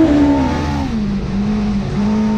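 Onboard engine of Gil Berga's race car during race 4 of the Crèdit Andorrà GSeries 2021, a loud, steady drone whose pitch drops after the first second and then holds close and constant.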